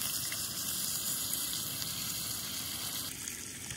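Food frying in a pan at an elk hunting camp, a steady broadband sizzle holding close and even throughout with no voices.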